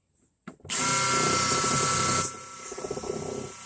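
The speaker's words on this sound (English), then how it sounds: "I just twirl the drill around a little bit." A power drill widens a hole, whirring loudly and steadily for a couple of seconds, then cuts out, leaving a quieter rattling grind as it winds down.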